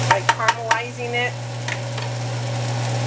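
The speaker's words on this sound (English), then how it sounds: "But I like frying my gumbo, like caramelizing it." Vegan gumbo sizzles and fries in hot oil with a steady crackling hiss, a few scraping stirs near the start, over a constant low hum.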